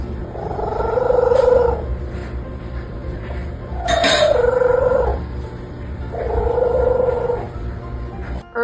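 A deaf cat purrs unusually, three soft throaty cooing phrases like a pigeon's, each lasting about a second or two with pauses between, close and fairly loud, with a brief clink in the middle.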